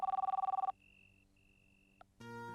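A telephone gives a rapid trilling electronic ring for under a second, followed by a quiet steady tone, a brief click and then a louder buzzing tone, with no talking.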